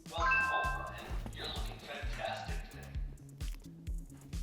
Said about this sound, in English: Did you hear the door lock? Did you hear the sound?